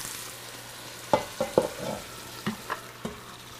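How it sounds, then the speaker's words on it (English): Meat and reduced wine go into a hot braising pot, giving a few sharp sizzling bursts and stirring clatters spaced over a few seconds against a quiet background. "And now I want to add the meat and the wine that was reduced."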